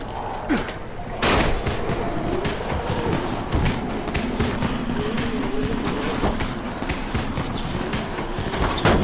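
Firecrackers burst in the Dying Light video game, a loud crack followed by a dense, continuous crackle of rapid pops lasting several seconds amid game ambience, with no talk over it.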